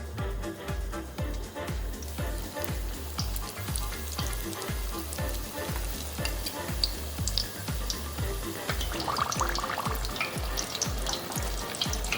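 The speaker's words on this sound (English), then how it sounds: "I love the sound of hearing egg rolls fry" Steady, crackling sizzle of chicken egg rolls frying in hot canola oil, close and continuous, with a rhythmic thumping beat of music running underneath.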